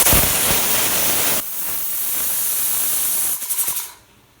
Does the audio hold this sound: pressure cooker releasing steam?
yes